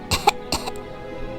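Two short, close coughs, voiced by a person imitating a fox with a sore, scratchy throat in a fairy tale, followed by quiet.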